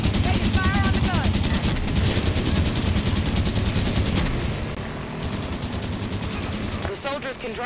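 Sustained automatic gunfire and explosions in a military video game battle, dense and loud throughout, with voices calling out over the shooting.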